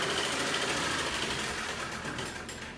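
Sewing machine running steadily in a sewing class at a home base in Liberia, a continuous close whirring motor hum that fades slightly toward the end, with no talk.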